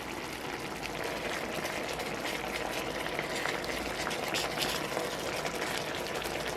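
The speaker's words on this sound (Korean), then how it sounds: "끓어오르면 강불에서 3-4분 익히세요." Sauce boils hard in a pot over high heat, a dense, continuous bubbling hiss that stays steady and close throughout, with no talking.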